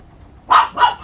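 A dog in The Division 2 video game lets out two quick, close, clear barks in rapid succession after a moment of near silence.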